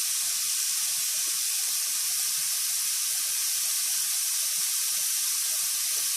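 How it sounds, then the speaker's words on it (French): Water boils in a pot, giving a steady, close hiss and sizzle with faint bubbling pops beneath, unchanging from start to finish. "mon eau est à ébullition"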